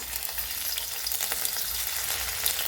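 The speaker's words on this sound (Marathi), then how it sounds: "आता आपण हे पनीरचे तुकडे पण थोडेसे फ्राय करून घेऊया." Paneer pieces fry in a pan with a dense, steady sizzle and faint crackles, close and even throughout, with no speech.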